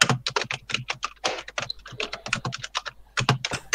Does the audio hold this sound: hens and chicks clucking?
no